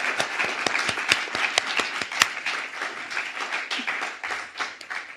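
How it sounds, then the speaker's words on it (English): Audience applause for presenters returning to the stage at a Constitution Day event on the Supreme Court, a loose, steady patter of many hands with distinct sharp claps standing out, continuing for several seconds. "Can you just join me in giving our presenters another hand clap"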